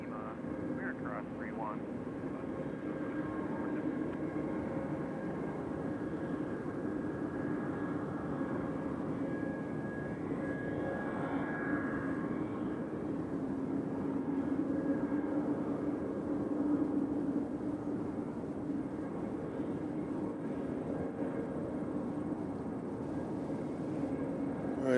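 A landing airplane on runway 2 center at Nashville International Airport, a faint distant engine rumble and whine sustained beneath a quiet outdoor background, with a voice talking at times.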